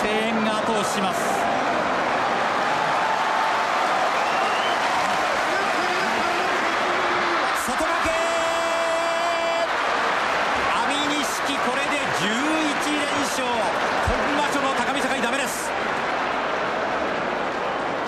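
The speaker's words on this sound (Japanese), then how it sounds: "観客の声援が後押しします" Crowd cheering and shouting fill an arena during a Heisei 19 spring tournament sumo bout, a dense continuous roar with surges, while a commentator talks over it.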